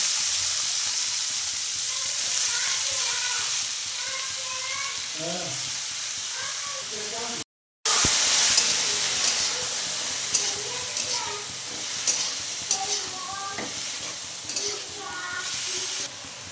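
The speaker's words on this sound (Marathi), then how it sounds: "थोडीशी हळद आणि आता ढोबळी मिरची टाकते." Capsicum and a little turmeric go into a hot pan and sizzle steadily up close, with a brief break, then continued hiss and stirring clinks while someone talks over it.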